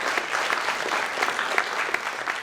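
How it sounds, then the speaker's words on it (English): Dense, lively audience applause at a mind reading stage show, with many hands clapping at a steady, loud level throughout. "Give me 2 round of applause."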